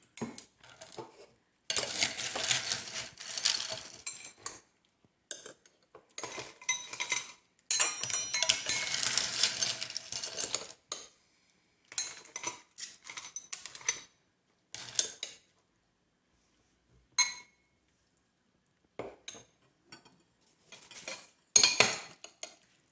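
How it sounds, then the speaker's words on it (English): Spoon and glass clinks and scrapes come in irregular bursts with pauses as tapioca pearls and jackfruit go into a glass for Vietnamese cendol (banh lot), close and moderately loud with no talking. "I put in the tapioca pearls, the jackfruit, and now the green color."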